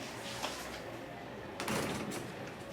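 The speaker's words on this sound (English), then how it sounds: "Close the door, Sal." An indoor door is pushed shut partway through, a muffled sliding thud over quiet room tone, with a small knock earlier.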